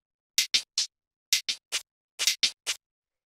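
A tech house percussion drum rack plays short, bright, clicky hits in three quick groups of three with small gaps between, dry and alone.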